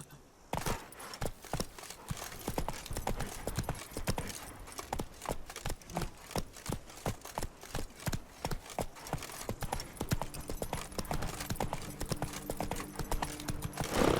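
Hooves pound in a rapid, steady clip-clop rhythm as Roach, a horse in The Witcher 3 video game, gallops continuously and close for the whole stretch.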